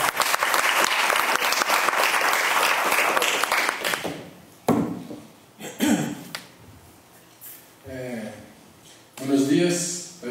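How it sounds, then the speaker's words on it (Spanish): Audience applause at a remote academic conference on communication and democracy, loud and steady for about four seconds, then giving way to a man's speech. "ahora sí les pido un fuerte aplauso"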